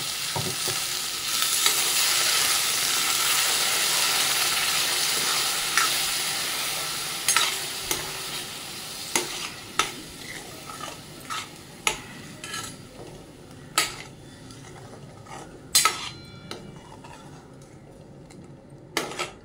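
Ground coconut paste sautéing in oil in a pan for bhendi curry, with a loud, steady sizzle at first that eases off as sharp spoon clanks against the pan grow more frequent.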